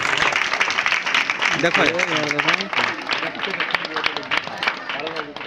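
Wedding guests clap in scattered bursts at a marriage ceremony, the applause fairly close but partly masked by people talking over it.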